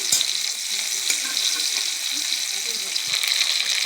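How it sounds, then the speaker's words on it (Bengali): Onions with bay leaves frying in a pan for an egg and potato curry, a loud continuous hiss and crackle under a few scraping stirs of a spoon, close up. "পেঁয়াজের মধ্যে তেজপাতা দিয়ে দিচ্ছি, দিয়ে নাড়াচাড়া করছি"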